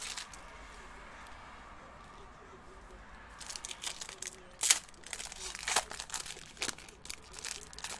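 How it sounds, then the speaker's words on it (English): Crinkling and tearing of a foil 2018-19 Panini Donruss Optic basketball card pack opened by hand, a quiet rustle building into sharper close-up crunches and snaps before the cards slide out. "I use my entire hand to open up the pack like this"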